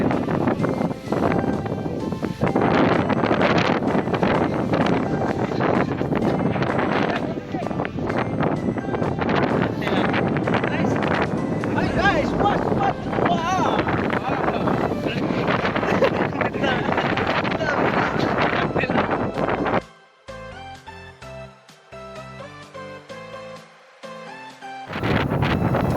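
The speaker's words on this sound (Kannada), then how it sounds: "ಕಳಿಸಿರ್ತೀನಿ ನಿಮಗೆ ಗಾಳಿ ಸೌಂಡ್ ಹೆಂಗೈತೆ" Strong wind on a hilltop at Sakleshpur roars and buffets the microphone continuously for about twenty seconds, then drops away abruptly, leaving quieter, sparse tonal sounds.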